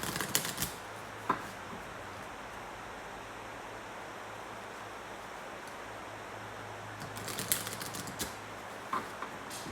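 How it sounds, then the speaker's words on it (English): A deck of Wychwood oracle cards being shuffled by hand, giving soft papery riffles and flicks in bursts at the start and near the end, with a quiet steady hiss in between. "Let's shuffle these cards for our first card."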